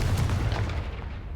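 A Confringo blasting spell goes off in Hogwarts Legacy as a single heavy, booming explosion with a rumbling low tail, loud and close, lasting just over a second without speech.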